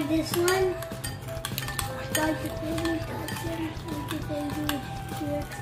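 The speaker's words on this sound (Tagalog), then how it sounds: "Tapos, haluin lang po natin siya." Spoon clinks and scrapes against a bowl while sugar is stirred into ensaymada dough mixture, a steady run of light metallic taps and swishes, close by, with a voice talking over parts of it.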